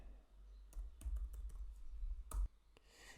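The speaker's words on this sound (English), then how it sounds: "I'm going to type in vision board." A search term is typed on a computer keyboard, with quick irregular bursts of crisp key clicks at close range in a quiet room, with pauses between groups of keystrokes and no talking.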